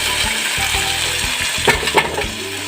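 Chicken tikka boti pieces frying in a pan over medium heat, a steady close sizzle with a few soft clinks and stirring sounds, no talking.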